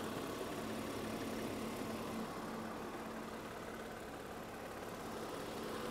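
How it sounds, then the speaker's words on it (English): A Lexus SC430 engine idles steadily with a faint, intermittent chatter under its even mechanical hum, heard close and continuous with no talking. "There's a definite little chatter sound going on."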